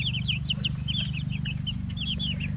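Twenty or so young meat chicks cheeping continuously in a brooder, many high, short peeps overlapping at close range over a steady low hum.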